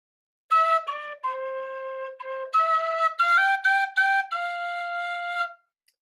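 A tin whistle plays a short, simple phrase of "When the Saints Go Marching In" in clear, sustained notes, heard alone and up close.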